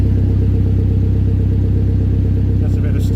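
A Ford Escort Mk1 with a Cosworth YB engine idles cold with a steady, deep rumbling rotary exhaust, loud and close, while a voice speaks briefly over it.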